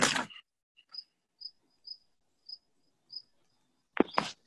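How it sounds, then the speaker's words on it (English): A cricket chirps in short, regular pulses outdoors near a house deck, fairly faint and spaced about half a second apart, with brief louder noises at the start and end. "I got some crickets and birds around me"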